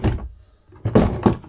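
A metal Harbor Freight ammo can is pulled from a small storage compartment in a teardrop camper, giving a few close thunks and scraping knocks.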